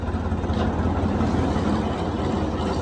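A well-kept 1984 tractor with a rebored engine runs steadily, giving a loud, continuous low diesel rumble close by, with no talk over it.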